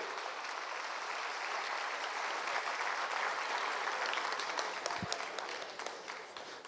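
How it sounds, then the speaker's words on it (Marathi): An audience at a Saraswati Vidya Mandir, Pachal ex-students' gathering claps for the school's first batch of students, a sustained, even round of many hands from a mid-distance hall crowd that fades slightly at the end. "पहिल्या बॅचचे विद्यार्थी टाळ्या झाल्याच पाहिजेत"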